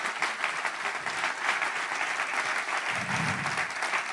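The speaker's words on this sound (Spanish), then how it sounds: "Dale un aplauso al Señor." A church congregation bursts into steady, loud applause that fills the room for several seconds, a dense wash of clapping hands heard alone without talking.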